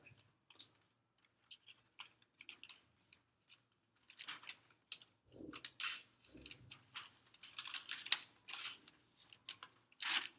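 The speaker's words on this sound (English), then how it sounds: "Actually, I think they're hair cutting scissors." Hair cutting scissors snipping at close range, a series of quiet, crisp clicks and short snips that begin sparse, then come faster and clustered, with soft rustling between cuts.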